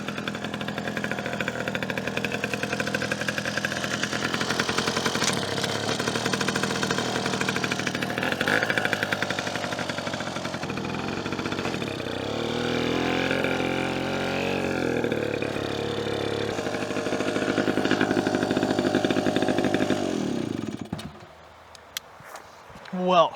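An old Ducati motorcycle engine, over 40 years old with a suspect clutch, runs loud and rough without stopping, its steady chugging roar holding for about twenty seconds before it cuts out abruptly near the end.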